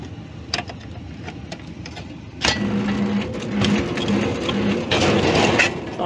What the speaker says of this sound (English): That's because the relay is kicking in and out.